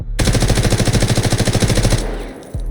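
A rapid burst of automatic gunfire with heavy recoil in the Delta Force shooter, around twenty evenly spaced loud shots over about two seconds, then a trailing echo and a faint mechanical click.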